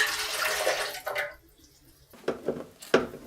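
Liquid poured into a bread machine pan for rosemary olive bread dough, a close splashing pour for about a second, then quiet, followed by a few shorter pours and splashes.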